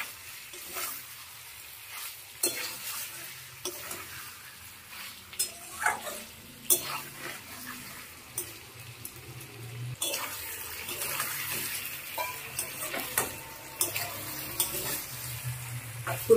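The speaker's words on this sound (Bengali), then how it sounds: "তাই আগেই কচি আলুটা ভালো করে কষিয়ে কষিয়ে নরম করে নেব।" Cauliflower and young potatoes are sautéed with spices in a pan, a soft continuous sizzle broken by repeated close scrapes and clinks of a spatula, with no one talking.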